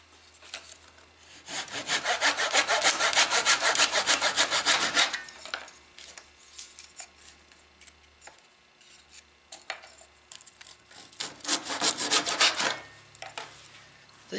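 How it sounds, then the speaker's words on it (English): A hand saw cuts through wood while building a model aircraft wing rib: rapid, rhythmic rasping strokes up close in two loud bursts separated by quieter scraping and handling. "These saws work good when they're new."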